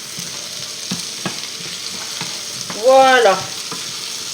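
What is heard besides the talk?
potatoes frying in a pan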